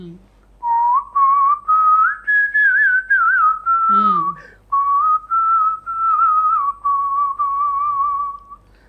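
A man whistling a song tune close to the microphone, a clear sustained melody in phrases with short pauses between them, no one talking.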